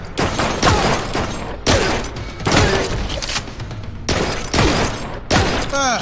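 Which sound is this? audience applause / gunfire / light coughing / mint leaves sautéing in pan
gunfire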